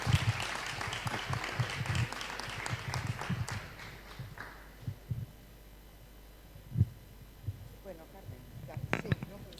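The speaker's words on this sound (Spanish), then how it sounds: "podemos hacer un aplauso para Raúl Camino." Audience clapping at a health and human rights congress opens loud, then fades within a few seconds into room hum, scattered thumps and faint voices.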